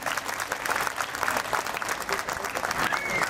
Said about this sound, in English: A roaring applause for my footballers, please.